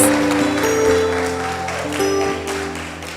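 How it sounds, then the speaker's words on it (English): At a preparatory school graduation and prize-giving ceremony, an audience claps for the graduating class. The applause is moderate and continuous, and sustained music tones are layered beneath the clapping. "So another round of applause for the prestigious graduating class."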